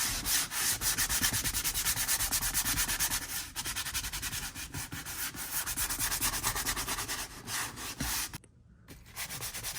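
Steady, loud abrasive sanding on a leather Ferrari 360 Modena seat, continuous back-and-forth rubbing that cuts out briefly near the end before resuming more faintly.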